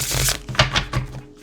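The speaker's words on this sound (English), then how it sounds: "let's give it one more shuffle." Tarot cards being shuffled during a reading, a few crisp snapping and riffling bursts of cardstock close by, uneven in rhythm and fairly loud, then trailing off quieter.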